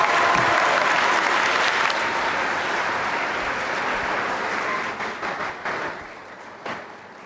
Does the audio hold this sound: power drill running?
no